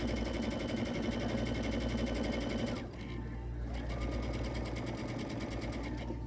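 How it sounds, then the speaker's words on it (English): A sewing machine runs steadily while stitching a straight seam, a fast even mechanical whir with one short pause before it resumes, close and continuous with no talk. "We'll watch her for 10 minutes while she sews just a straight seam."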